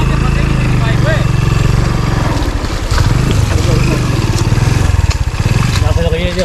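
A motorcycle engine churns loudly up close on a rough stony path, its uneven throbbing rising and falling with the rocky ground, while people talk over it throughout.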